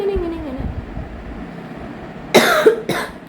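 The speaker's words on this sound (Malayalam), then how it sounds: "എനിക്ക് ചുമയാണ്" A person lets out two harsh, close coughs in quick succession after a stretch of quiet room noise.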